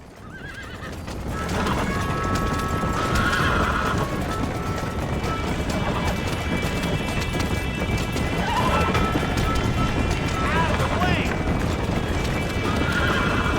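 Rapid hoofbeats of a galloping horse in Red Dead Redemption run steadily throughout, with several loud neighs breaking in near the start, middle, and end.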